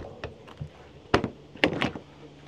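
A storage compartment door opens on a 2025 Arctic Wolf 3250SUITE travel trailer with an aluminum frame, giving a few close latch clicks and hollow thunks, two of them sharp and loud.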